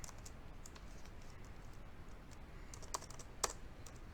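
Soft, rapid keystrokes patter on a computer keyboard at a steady pace, with a couple of sharper clicks near the end, quiet and close under a faint background hiss.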